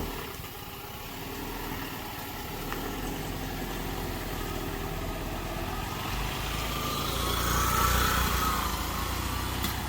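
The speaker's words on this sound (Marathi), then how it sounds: "हे बघा इथे ही एस टी उभी आहे हे बघा बाजूने कसं गाडी पास करावी लागत आहेत" A state transport bus idles beside a road blocked by a fallen tree after a night windstorm, its engine giving a steady, close rumble while traffic squeezes past and the sound swells briefly near the end.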